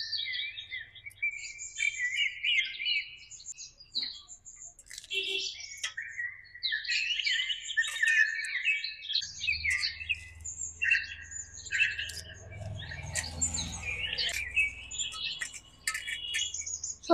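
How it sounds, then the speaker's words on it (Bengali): Birds squawk and chirp repeatedly near a village field, sharp overlapping calls that come in bursts with brief pauses, fairly close and clear, with no talking. "দেখ পাখি কেমন ডাকছে,"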